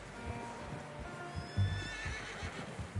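A horse in Red Dead Redemption 2 whinnies in a long, wavering call, with hooves clopping and shuffling nearby beneath it.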